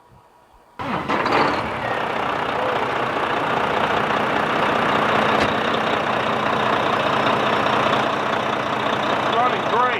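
A stock Volvo semi truck's diesel engine cranks and fires after a brief quiet moment, then settles into a steady, loud, close idle that runs unbroken to the end.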